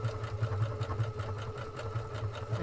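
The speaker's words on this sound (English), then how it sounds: "I'm going to press the thread cut button, just let it go through the motions" A Creative 1.5 sewing machine running its automatic thread cut and tie-off cycle gives a steady mechanical hum with a rapid, even stitching pulse, alone and moderately quiet.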